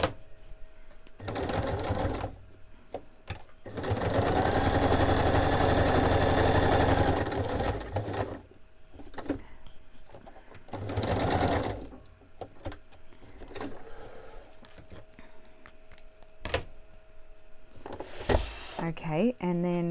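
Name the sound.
sewing machine stitching around cardstock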